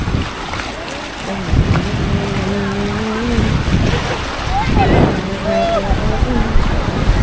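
Surf rolling in at Varsoli beach in Alibaug on the Konkan coast, a steady wash of waves with wind buffeting the microphone, while people talk nearby over the sea.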